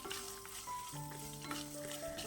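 Shallots, garlic and green chili sauté in a pan for carrot chutney, giving a soft, steady sizzle with light stirring scrapes under faint tonal hums.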